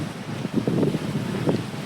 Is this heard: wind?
yes